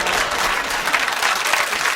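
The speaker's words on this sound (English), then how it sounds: "It's a worrying round of applause" A brief burst of steady applause from a studio audience at a British comedy panel show, dense and even from start to finish with no voices over it.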